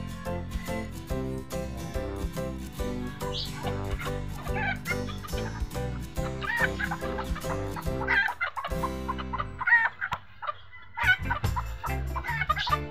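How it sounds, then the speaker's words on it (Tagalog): Serama bantam chickens, including a white hen, cluck and call nearby in short repeated bursts over a steady background hum, with a few sharper squawks toward the end. "Hen na puti."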